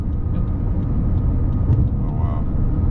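Inside a Lexus TeamMate autonomous car changing lanes on the road, a steady low engine and road rumble fills the cabin without a break.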